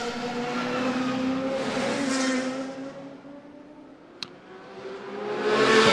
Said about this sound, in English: There you've got the Aston Martin going through as well